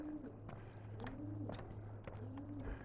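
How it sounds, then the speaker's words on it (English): Pigeons coo softly under a bridge in Regina, repeated low rolling calls recurring about every half second, fairly close and quiet, over faint background noise. "I hear pigeons."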